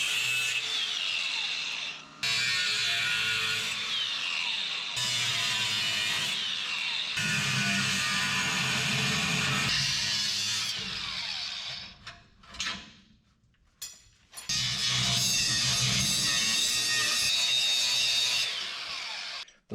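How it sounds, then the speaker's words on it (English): Power-tool cutting of a piece of 1/2-inch steel plate in a fabrication shop, loud grinding bursts broken by short pauses, with a clunk and a quieter gap midway before the cut resumes. "Cut down a piece of that 1/2-inch plate, weld her on."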